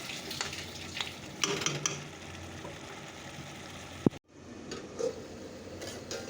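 Dried fish chutney cooks in a pan, sizzling and frying steadily with occasional stirring scrapes up close, then a sharp knock and a sudden brief drop before the frying resumes.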